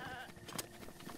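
A goat bleats in Zelda Breath of the Wild near a horse stable, a short wavering bleat over steady game background sound.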